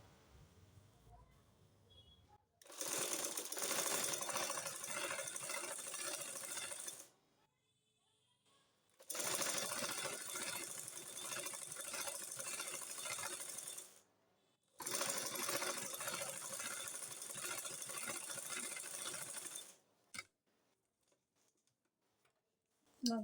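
A sewing machine stitches the back neckline of a pleated burqa in three long, steady runs of rapid mechanical whirring, each lasting about five seconds and separated by brief quiet pauses, close and fairly loud.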